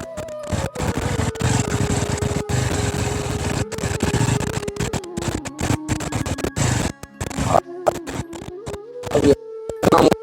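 A motorcycle rides along a rough, thorn-strewn road through water. A steady engine drone shifts pitch as it goes, broken by harsh bursts of scraping, splashing and wind noise.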